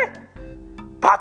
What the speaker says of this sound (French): Allez mon petit chien.